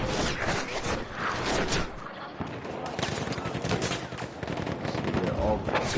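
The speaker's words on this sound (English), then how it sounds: "they're all gunning this tank" Dense bursts of gunfire aimed at a tank in Battlefield 1, with rapid automatic fire and single shots overlapping loudly amid battle noise, and a brief lull partway through.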